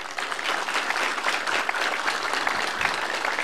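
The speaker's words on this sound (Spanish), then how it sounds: "Un fuerte aplauso para Víctor" Sustained applause from an audience at a public infrastructure inauguration ceremony in Loreto–San Martín, Peru, honoring congressman Víctor Isla; dense steady clapping throughout with no speech.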